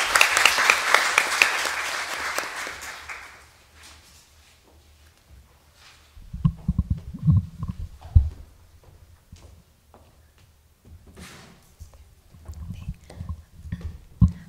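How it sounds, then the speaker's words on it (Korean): An audience at a formal meeting with invited Korean guests claps to welcome a speaker to the front. The lively applause lasts about three seconds, then fades into quiet shuffling and scattered small knocks. "네, 큰 박수 부탁드립니다."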